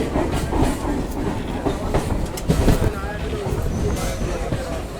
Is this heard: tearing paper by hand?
no